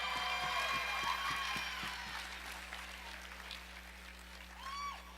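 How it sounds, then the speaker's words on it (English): Applause from an audience at a live staff awards ceremony, a dense spread of clapping held at a moderate distance, with a few whoops and a voice rising above it near the end. "Everybody give Brady a big round of applause."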